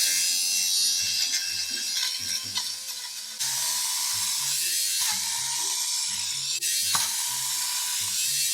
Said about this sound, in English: There's something super satisfying about listening to this thing just tear up that like pilling.